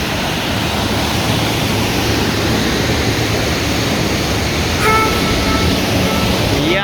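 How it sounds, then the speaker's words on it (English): Mountain waterfall near München after a climb, giving a loud, constant broadband roar of falling water close by, with a brief faint extra tone near the end. "it was worth to come and to climb to this mountain to see this waterfall"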